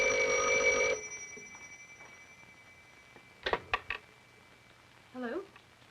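Telephone bell ringing loudly at first, then stopping; a few clinks of a handset being picked up follow, then a brief voice.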